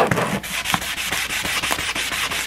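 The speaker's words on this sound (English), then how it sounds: "So I'm just going to sand this for maybe, I don't know, 2 minutes maybe, just to rough it up" A guitar pickguard for a Stratocaster being sanded by hand to rough up its glossy surface before painting, with rapid rhythmic back-and-forth scrubbing strokes, close and steady, no voices.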